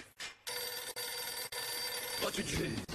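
A telephone bell rings in bursts, loud and close, with brief gaps between rings.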